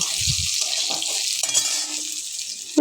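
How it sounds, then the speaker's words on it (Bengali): Onions sizzle in a hot pan with a steady bright crackle, stirred now and then with soft scraping. "দেখো আমার পেঁয়াজ প্রায় ভাজা হয়ে এসেছে লাল লাল করে"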